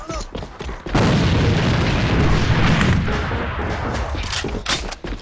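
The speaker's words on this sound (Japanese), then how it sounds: "手榴弾を使うぞ。" A grenade going off in a shooter video game, a heavy booming blast that erupts after a second of brief chatter and rumbles on with crackling debris, loud and sustained.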